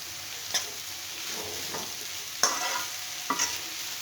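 Food fries in a pan under a continuous crackling sizzle, broken by three sharp stirring scrapes spaced across the moment, close and clear with no talking.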